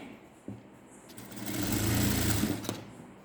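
A sewing machine runs a long stitch through blouse fabric, its close, steady whirring motor building over about a second and a half before stopping, with a few handling knocks around it.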